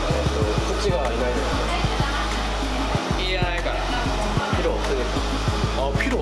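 A hair dryer with its nozzle removed blows continuously and loudly in a hair salon in Japan, a steady rushing whoosh while people talk over it.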